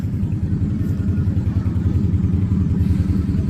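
Motorcycle engines rumble nearby on a street, a steady, pulsing low throb, loud and continuous, with no voices.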